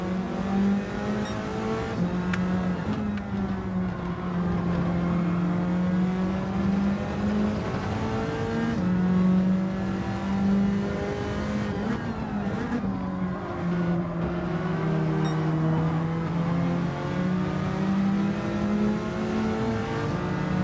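A race car in Gran Turismo 7 holds a steady high engine drone, its pitch easing and climbing with throttle and gear changes as it drives continuously.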